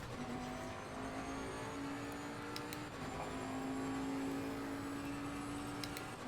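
In the racing game Assetto Corsa Competizione, a Bentley race car engine drones steadily at Monza, its held tone shifting slightly mid-run over a constant road and wind roar, with no talking.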